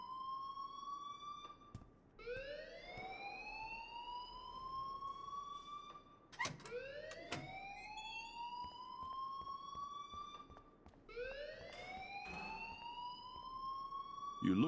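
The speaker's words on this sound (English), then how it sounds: "please turn off that alarm since that's your job" A school alarm in the Life is Strange video game wails in repeated rising sweeps, about four cycles, each climbing then holding, with sharp clicks between, steady and moderately loud.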